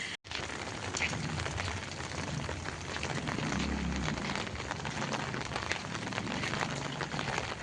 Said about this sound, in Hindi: बारिश इतनी ज़ोरदार वाली हो रही है ना आज वो भी सुबह सुबह।